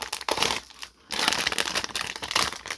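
Plastic blind-box bag for a Pop Mart collectible keychain being crinkled and handled close up, a dense run of crackling rustles with a brief pause in the middle.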